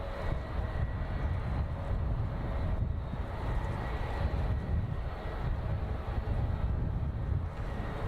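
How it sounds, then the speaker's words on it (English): A Boeing Dreamliner airliner arrives from Seoul at San Francisco Airport on an overcast morning, its engines a broad, steady low roar heard from a distance, with no voices. "Dreamliner coming in from Seoul, flight time 10 hours and 17 minutes"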